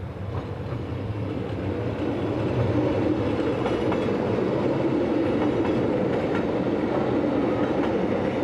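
Class GE44 electric locomotive number 641 hauling the 0658 service from Davos past Klosters station on a steep gradient, a steady loud rumble of wheels and rolling stock with faint rhythmic clicking throughout.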